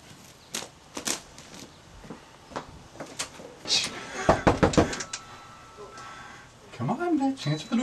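Sharp knocks on a door land singly and in a quick cluster, some loud and some softer, mixed with rustling and a voice near the end.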